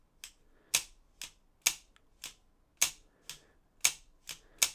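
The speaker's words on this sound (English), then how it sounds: "It has a crack sound, which is not needed." FishingFans Orca small lure fishing reel, its mechanism giving a series of sharp, close, isolated cracks at a slow uneven pace, about ten in a row, with no voices.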